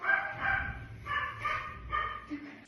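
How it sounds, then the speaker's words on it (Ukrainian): A dog barks a few times at a moderate distance, irregular yips and woofs spread across the moment, with faint background noise. "Хто там гавкає?"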